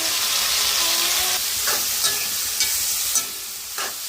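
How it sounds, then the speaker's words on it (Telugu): Onions and tomatoes frying in hot oil, a steady loud sizzle broken by several stirring scrapes of a spoon in the pan, close by with no talk. "ఈ వెజిటేబుల్ అనేది బాగా ఫ్రై అవ్వాలండి బాగా ఫ్రై అంతే వరకు అయితే కలుపుతూనే ఉండాలి"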